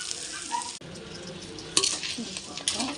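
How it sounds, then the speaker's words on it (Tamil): Lake crab added to a pan of frying curry masala with coriander powder, a close sizzle with clattering as pieces land and are stirred, louder bursts near the middle and end. "இப்போ நம்ம நண்டு போட்டுக்கலாம்."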